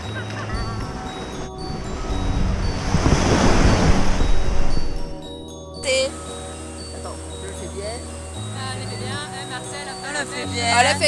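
Sea waves breaking and washing on a little-known beach at Onjuku in Chiba, Japan, a loud close surge that swells and recedes with wind buffeting the microphone, followed by quieter surf with faint background noise.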